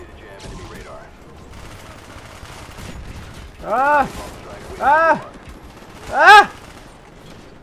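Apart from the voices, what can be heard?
MP5 gunfire in video game Black Ops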